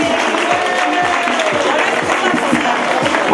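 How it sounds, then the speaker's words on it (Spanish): Audience applause at a children's San Silvestre race prize ceremony on New Year's Eve, dense steady clapping from a crowd, loud and close throughout the short stretch. "Un fuerte aplauso, están por ahí arriba."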